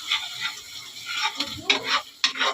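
Arbi leaves and spices roast in a pan with a soft, close sizzle and a few sharper stirring clinks and scrapes at irregular moments.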